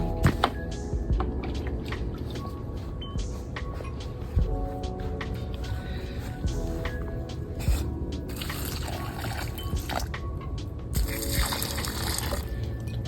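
Water poured from a container onto an okra plant in a garden pot, soft trickling and splashing with drips, fairly faint and continuous.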